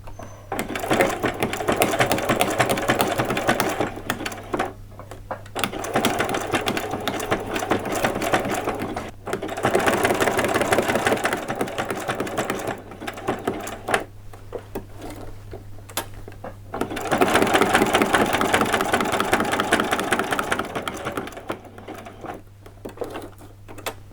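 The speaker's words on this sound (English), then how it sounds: "So that is your two pieces of Velcro stitched on." Sewing machine running in long steady stitching bursts with brief pauses between them, close and loud, while strips of Velcro are stitched onto fabric.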